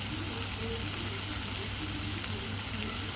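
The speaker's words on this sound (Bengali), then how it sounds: "সবগুলোকে ভাজবো।" Capsicum, carrot and potato fry in a pan for pasta with a continuous soft sizzle and hiss, faint and steady throughout.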